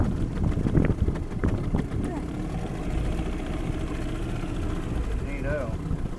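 An outboard motor on a boat at Dunnellon, Florida drones steadily throughout as a low continuous hum, with people talking over it early on and water noise underneath.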